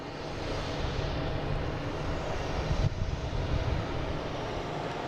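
Jet airplane engines at Boston Logan International Airport, a loud steady roar that swells slightly midway, heard from outside near the airfield with no talk.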